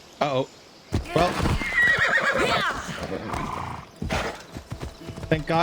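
A horse in Assassin's Creed Odyssey clip-clops along and lets out repeated whinnies, close and fairly loud, with someone talking over the hoofbeats.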